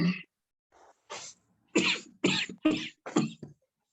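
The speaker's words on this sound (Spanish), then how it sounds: "¿Quién está tosiendo?" Several sharp coughs in a row, close and loud, with brief gaps between bursts.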